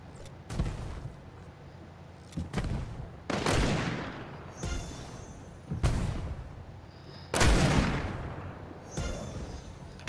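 Bursts of video-game gunfire in Fortnite Prop Hunt, several separate volleys of rapid shots at irregular intervals, loud and sharp against a quiet background.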